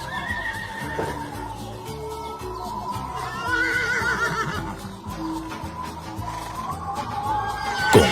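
Horses neigh and whinny among warriors on horseback, several long shrill calls rising over a rhythmic background of hooves and music, with a sharp louder burst at the very end and no talking.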